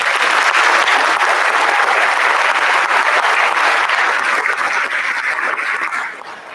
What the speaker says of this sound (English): Now let's give the seniors a round of applause.